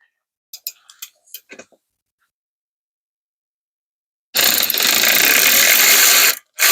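Ratcheting wrench loosening a 10 mm nut on a Mercedes ABC hydraulic system: a few light, close pawl clicks in brief bursts, then a long loud steady rush of noise with a short break near the end.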